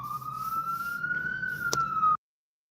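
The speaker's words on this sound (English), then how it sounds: "as you can hear the sirens" A single siren wails outside, a steady rising-and-falling tone at moderate distance over faint background rumble, ending abruptly.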